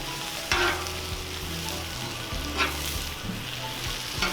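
Top sirloin steaks and asparagus sizzling on a Cuisinart 360° griddle, a continuous quiet frying hiss with a few scraping spatula strokes and a low background hum, no talk.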